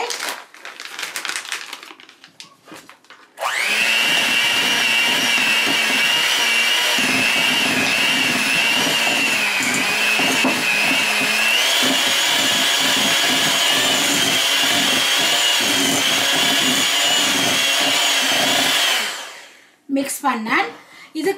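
An electric hand mixer beats a cheese filling of cream cheese, masala cheese, parmesan and shredded cheese for vegetarian stuffed shells, running loud and steady for about fifteen seconds with a grinding whir, then cutting off; faint sounds before and after.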